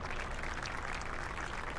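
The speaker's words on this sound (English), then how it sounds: "Give them a round of applause." Audience applause for highway commissioners at a park grant announcement, a steady, even wash of clapping filling the whole short stretch with no voices over it.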